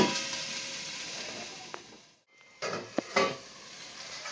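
Ground masala paste (vatan) fries in oil in a pan for a spicy wet val bean dish, with a steady sizzle. After a brief pause, a utensil scrapes and clinks against the pan while the frying continues.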